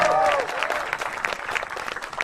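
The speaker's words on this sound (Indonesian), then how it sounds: "Tepuk tangan dulu dong buat gitaris gue." Audience applause at a televised stand-up comedy show in Indonesia, a dense, steady patter of clapping from a crowd. A brief musical tone sounds at the very start, then the clapping carries on alone at an even level.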